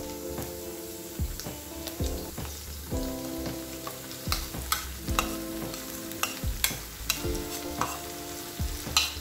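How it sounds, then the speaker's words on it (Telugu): Ivy gourd pieces stirred with onion chili masala in a hot pan, a steady sizzle under repeated scraping spoon strokes and clicks against the pan, close up, with a brief spoken word. "ఉల్లికారాన్ని నెమ్మదిగా ఇలా కలుపుకుందాము దొండకాయ ముక్కలు విరిగిపోకుండా"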